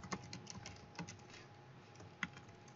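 Keys tapped on a computer keyboard to enter a tilde between words, a few light, irregular clicks with one sharper keystroke near the end, close and quiet with no talking.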